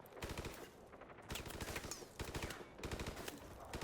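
Machine gun fire in Call of Duty: Modern Warfare Remastered rattles out in three rapid bursts separated by brief pauses, loud and close.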